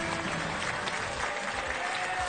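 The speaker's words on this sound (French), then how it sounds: "On applaudit Sylvie et Mathieu." Studio audience applauding two contestants on the French TV game show Mot de Passe, a dense, steady wash of clapping filling the whole moment with a faint voice underneath.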